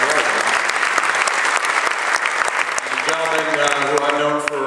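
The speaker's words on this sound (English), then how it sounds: "have a nice round of applause" Steady, dense applause from an audience at a boxing promotion press conference at Turning Stone, running throughout, with a voice starting over it near the end.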